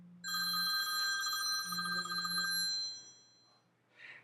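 A telephone bell rings steadily for nearly three seconds, a bright, loud electronic ring with a low pulsing buzz underneath, then fades out.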